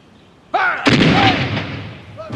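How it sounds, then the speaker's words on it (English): Marine artillery fire from the WWII Battle of Guadalcanal: a sharp blast followed by a sustained rumbling roar of heavy guns, loud and close, with a faint thin tone just before and another at the end. "Marine artillery blasted the Japanese off the ridge"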